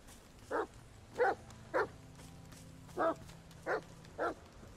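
A dog in the horror video game The Medium barks six times in a steady, insistent rhythm, each bark short and clear over a low, quiet ambient hum.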